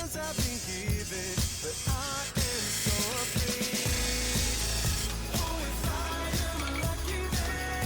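Roughing gouge cutting spinning wood on a lathe while turning a honey pot, a loud continuous scraping, chattering cut with rhythmic tool contact and the motor's steady drone beneath.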